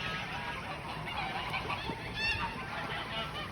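German mast geese honk on a farm, a flock calling close by in overlapping nasal honks over a busy background.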